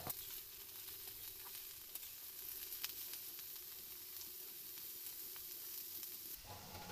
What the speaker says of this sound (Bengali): এরপর একে একে পেঁয়াজ কুচি, কাঁচা লঙ্কা কুচি ও পেঁয়াজ কলি আর বাঁধাকপি দিয়ে দেব। সবগুলো সবজি একসঙ্গে ভালো মতো মিশিয়ে নিচ্ছি।